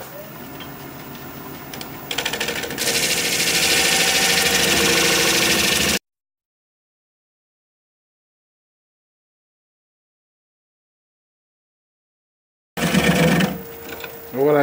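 Wood lathe spinning a redwood branch at about 800 RPM, a steady loud mechanical whir and rattle that cuts out abruptly, then returns briefly.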